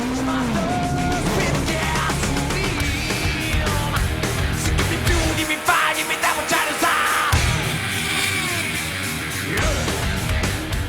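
A race car driven fast at Indianapolis Motor Speedway roars loudly throughout, its engine note shifting with gear changes and a brief dip, while a voice yells over the noise.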